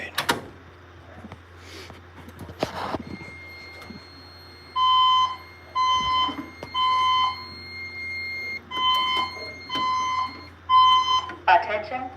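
A fire alarm system sounds a repeating electronic alert tone in six sustained bursts of about a second each, separated by short gaps, loud and close against a quiet room with faint background noise.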